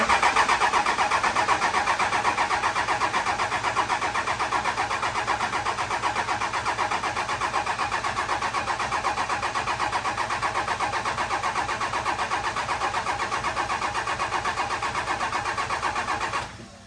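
Starter cranking a 2000HP engine on an engine dyno, a steady mechanical churn that runs loud and continuous for about sixteen seconds, then cuts off abruptly at the end.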